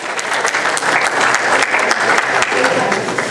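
Audience applause at a Hindi poetry gathering, loud, close clapping from many hands with distinct individual claps standing out, continuing steadily throughout.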